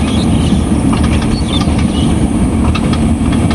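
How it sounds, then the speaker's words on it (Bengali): A train rolls slowly past in the morning. Its wheels give a close, loud, continuous clickety-clack with faint metallic squeaks, and no voices are heard. "ট্রেন খুব ধীর গতিতে যাইতেছে।"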